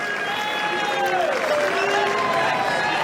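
A Wimbledon tennis crowd applauding, a dense continuous wash of clapping with a commentator talking over it.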